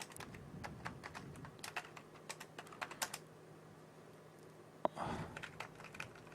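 Quick, uneven keystrokes on a faulty computer keyboard with a sticking D key, light clicks in short bursts, then a sharper tap and a brief rustle near the end.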